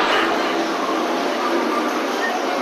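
Steady, loud broadband rumble and rush of a Kolkata metro train, continuous and close for the whole stretch with no voices.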